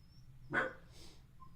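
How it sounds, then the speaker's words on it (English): Several household dogs bark indoors, set off by one dog whining at a back door: a single short muffled bark stands out from a quiet room, followed by a fainter yip. "One of my dogs is whining at the back door, and it caused the other dogs to bark"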